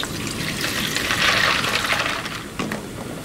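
Water runs steadily into a bowl being filled for ice water while candied papaya is made, a loud, continuous splashing hiss lasting a few seconds with a brief change in flow near the end.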